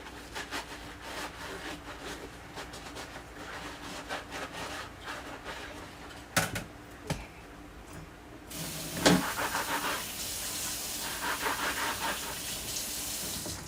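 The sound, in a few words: washing an item under running tap water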